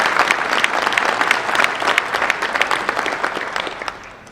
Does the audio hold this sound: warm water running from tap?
no